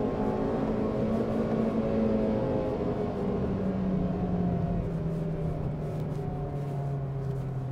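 Honda Amaze manual with the 1.2 i-VTEC petrol engine cruising along a highway, with a steady engine drone and road rumble throughout, slowly rising and falling in pitch, close and continuous with no talking.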